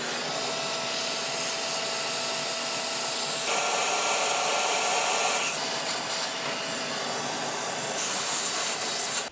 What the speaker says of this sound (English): just going to try to vacuum around here a little bit, clean this up a little